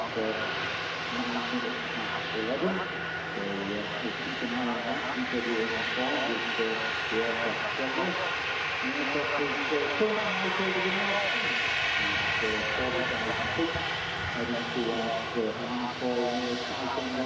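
An easyJet airliner arriving from Milan at Manchester Airport gives a steady, fairly faint jet rumble beneath continuous nearby talking.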